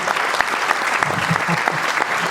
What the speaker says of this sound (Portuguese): uma salva de palmas novamente para a sua professora Helena Costa